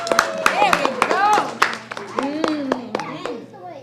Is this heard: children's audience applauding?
yes